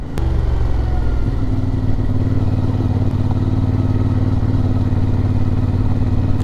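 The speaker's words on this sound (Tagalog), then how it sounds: "Ayun, may motor sa dulo." A motorcycle engine drones steadily with a low, rumbling hum throughout, fairly close and constant, with no talking.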